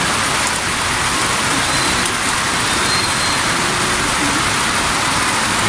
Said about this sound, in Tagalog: Maglabing na ang bagsak ng ulan.